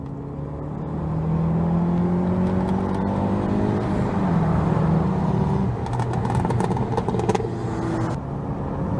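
A Honda Accord CL9 overtaking on a race track during a track day, heard as a steady, loud engine drone with rising and falling pitch under acceleration, continuous throughout with some rattling noise later on.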